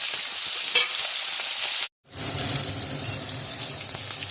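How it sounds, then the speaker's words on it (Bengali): Potato, tomato and green chillies fry in a pan with a steady, close sizzle. The sound cuts out briefly midway, then the frying hiss resumes at full strength. "টমেটো আলু কাঁচা লঙ্কাটা একটু ভাজা ভাজা হয়ে গেছে"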